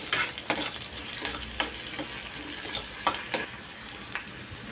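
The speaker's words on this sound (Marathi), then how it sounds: "सोनेरी रंगावरती आपण कांदा भाजून घेऊया" Onion frying to golden in a pan for a Malvani coconut-onion masala, a steady crackling sizzle broken by scraping stirs and sharp clicks of the spoon against the pan, close up with no talking.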